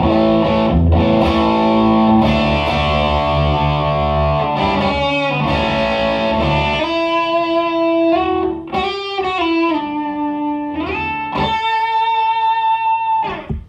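Electric guitar played through an overdrive drive pedal on a worship pedalboard, fed by a compressor: loud, sustained distorted chords and single notes with long ringing sustain and rich harmonics, alone and up close.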